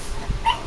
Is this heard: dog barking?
yes